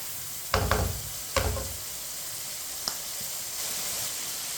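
Peas cook in a pan for matar pulao, stirred with a spoon: two short bursts of scraping and sizzling, then a single light tap over a steady, faint frying hiss.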